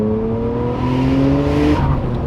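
Nissan Skyline R33 GTR V-Spec engine revving hard under acceleration, a loud, close, sustained rising drone with pops and bangs from the exhaust, heard alone without talk.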